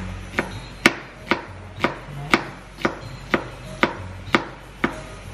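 A knife chops vegetables on a cutting board in a home kitchen, with about ten sharp, evenly spaced knocks landing at a steady rhythm, close and clear, and no one speaking.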